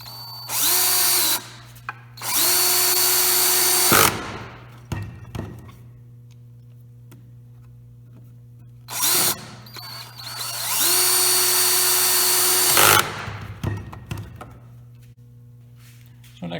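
A power drill drives 2-inch screws into wooden cross pieces, with four loud, close bursts of whirring, each a second or two long, separated by pauses and light clattering handling noises.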